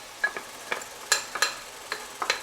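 Garlic tossed into a pan with softened onions and celery for mushroom stuffing, a soft steady sizzle broken by several light clicks and scrapes of stirring, fairly close and without talk.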